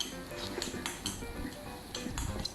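Garlic and chili being stir-fried in a pan for Thai shrimp with chili and garlic, quick metallic clinks and scrapes of a utensil against the pan repeating in a busy rhythm, close and moderately quiet.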